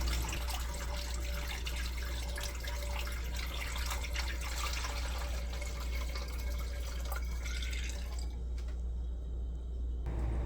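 Water pours steadily and loudly into a carboy for homebrewed hard cider, a continuous splashing rush that stops abruptly near the end.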